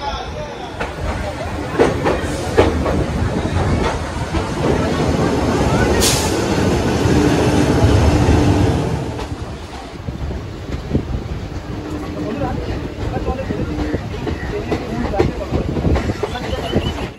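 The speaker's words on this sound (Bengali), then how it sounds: "ট্রেন কিন্তু একদম লেট করেনি, দেখো ট্রেন ছেড়ে দিয়েছে একদম ডট 2টোয় কিন্তু ট্রেন আমাদের ছেড়েছে কলকাতা স্টেশন থেকে" Kolkata-to-Digha passenger train 03161, just departed from Kolkata station, rumbles along with a constant roar, scattered wheel clacks and buffeting wind noise heard from inside the carriage.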